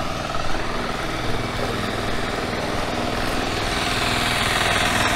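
A kuliglig hand-tractor vehicle engine runs steadily and loudly nearby on a flooded street, its rattling, chugging drone continuous throughout without a break.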